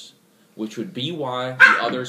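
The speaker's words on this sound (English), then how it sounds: "That was our cat picking on our dog." A pet dog barks and yelps while a cat picks on it, sharp bursts rising near the end and mixed in with a person talking over the top.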